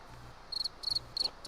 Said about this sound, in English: why are you doing crickets?